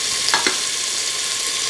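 Curry leaves drop into hot oil in a pressure cooker, with a short crackle and spatter of sizzling followed by a soft, steady frying hiss.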